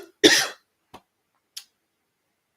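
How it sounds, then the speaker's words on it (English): A single harsh cough from an allergy sufferer bursts out near and loud, followed by a few faint, short throat sounds separated by silence. "apologize for all the coughing."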